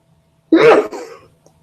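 A single short, sharp sneeze bursts out of silence and fades quickly, heard close up and alone.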